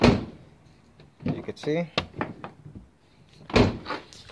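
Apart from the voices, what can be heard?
car door opening without hitting the fender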